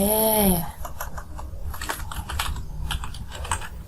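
Rapid, steady keystrokes on a computer keyboard while typing into a Google Docs document, close and continuous after a short tonal chime at the very start.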